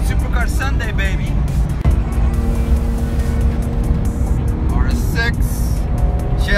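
A convoy of supercars heads toward TT-Assen on Supercar Sunday, its engines giving a loud, steady roar with passing whooshes and revs, while voices talk over the motor noise.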